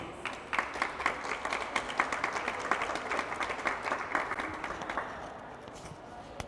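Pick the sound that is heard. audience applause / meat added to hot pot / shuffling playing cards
audience applause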